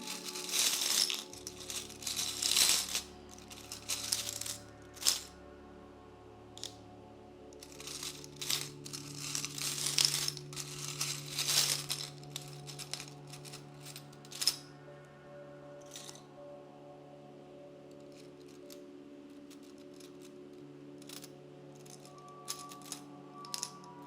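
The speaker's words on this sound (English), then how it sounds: "my eyes will be closed when I am shuffling these charms" Small charms clatter and crinkle in bursts of shuffling, with sharp clicks and rustles against a steady low hum.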